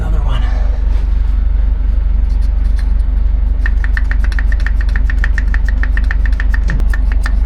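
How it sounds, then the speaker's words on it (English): Steady, loud mechanical rumble from a rock crusher's second engine as it is primed and run, with a continuous low drone and a fast, regular ticking clatter setting in partway through, close to the microphone. "this thing has 2 engines, so we're gonna need to prime the other one too"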